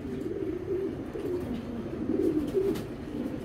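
Racer pigeons cooing in a loft, soft low repeated coos overlapping one another at close range, fairly quiet and continuous with no voices over them.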